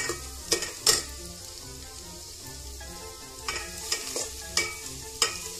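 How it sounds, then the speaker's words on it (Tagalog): Chopped garlic and ginger frying in a pan for chicken tinola, with a constant soft sizzle and several clear scrapes and taps of a spatula stirring at irregular intervals. "Lutuin lang natin guys ang ating ingredients, ang ating bawang sa luya hanggang sa maging light brown."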